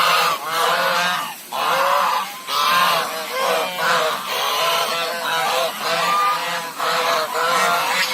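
A goose honks repeatedly up close, a series of loud, harsh calls in an uneven rhythm with brief gaps between them.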